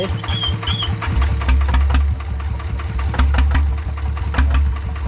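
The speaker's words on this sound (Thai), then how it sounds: "ไม่มีจอบนะ ผมเดี๋ยวเอารถไถไถ" A small walk-behind tractor engine chugs steadily at close range, its low rhythmic putter continuing throughout with sharp clicks and knocks layered on top.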